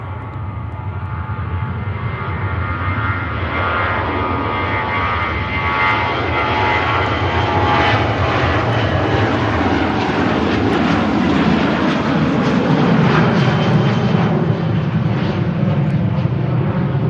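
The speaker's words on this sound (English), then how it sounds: "Steady spool up" Ryanair jet engines spooling up at Manchester Airport, a loud, sustained roar that builds steadily in power over about seventeen seconds, with a broad rumbling whine and no voices.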